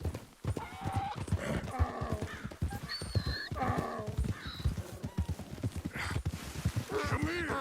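Horse in the game Red Dead Redemption 2 galloping with a steady, continuous hoofbeat rhythm, loud and close, with an occasional whinny over a dense outdoor game soundscape.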